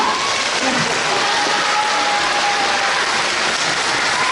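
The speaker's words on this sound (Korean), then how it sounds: "박수 소리가 이 팀이 제일 크겠죠?" Dense, steady applause from a crowd at an elementary school talent show fills the whole stretch, loud and continuous with no pauses.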